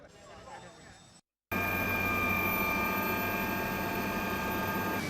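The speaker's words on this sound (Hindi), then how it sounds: "अब ये हमारा हेलीकॉप्टर बदायूं के रास्ते में है।" Steady, loud helicopter cabin drone in flight between Shahjahanpur and Badaun on an election tour, a continuous broadband roar with tonal hum filling the clip after a brief silent gap, preceded by a short stretch of speech.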